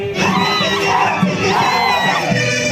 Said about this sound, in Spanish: Este rugido de las chicas, grito de las mujeres, mujeres solteras.